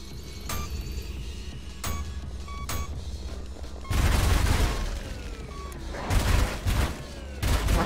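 Nail gun firing in Ultrakill, a few sharp isolated shots followed by a dense, loud stream of rapid metallic bursts, with game background noise throughout.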